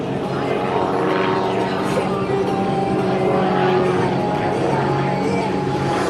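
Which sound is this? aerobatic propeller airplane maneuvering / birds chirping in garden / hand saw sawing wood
aerobatic propeller airplane maneuvering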